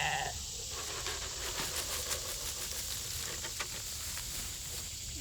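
Sheep bleating on a farm, a few short bleats fairly close over a steady hissing background, with no talk.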